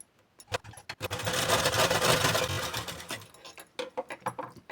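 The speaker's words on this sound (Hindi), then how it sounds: "इस तरह से हमने कच्ची सिलाई लगाई।" A sewing machine runs a loose basting stitch on a blouse lining in one continuous mechanical whir, framed by scattered clicks and handling knocks before and after.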